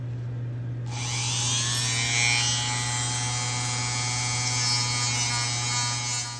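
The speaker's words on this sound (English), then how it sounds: "we're gonna put this on low speed and then just start shaving bulky parts of the soldering material off the band" A low-speed dental handpiece starts up with a rising whine, then grinds steadily against a metal band to shave bulky solder off a band and loop space maintainer. It holds a continuous buzzing tone over a low mains hum, with no voices.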